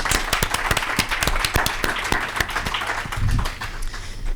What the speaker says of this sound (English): Round of applause, and then I'll hand back to Kerry for a close.